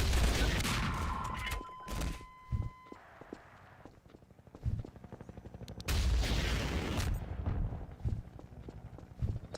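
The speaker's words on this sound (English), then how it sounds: "I like the explosion effect." Explosions and gunfire from a Half-Life 2 firefight erupt in loud, broad booms with crackling debris, separated by quieter stretches of footsteps and clattering game effects.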